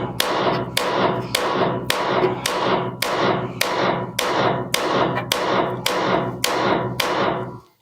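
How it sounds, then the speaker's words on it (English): A front suspension ball joint on a 1977 VW Bus camper is hammered out with a steady series of about a dozen hard, ringing metal blows, evenly spaced and loud, with no talking. "So you have to knock it out."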